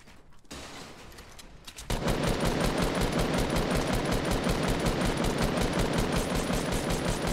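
After a quiet start, rapid sustained automatic gunfire erupts in Fortnite and continues without pause, loud and rattling, dense bursts filling the rest.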